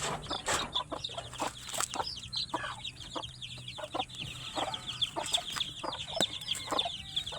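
Native chickens clucking on a farm, with a busy run of overlapping clucks and short calls at varied distances over a low background hum, with no voices.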